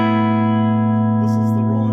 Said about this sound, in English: This is the Roland JC Clean sound, and I really like it